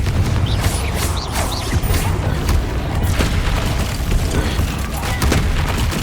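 Explosive spell blasts from combat in the Hogwarts Legacy video game, a dense, continuous barrage of booms and crashing impacts with rumbling low end throughout, loud and close, with faint voices mixed in.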